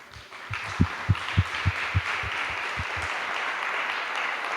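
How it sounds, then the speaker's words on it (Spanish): Congregation applause in a Spanish-language church service, a broad wash of crowd clapping under several deep, rhythmic thumps that pulse roughly every third of a second before fading into steady sustained noise. "Denle un aplauso al Señor."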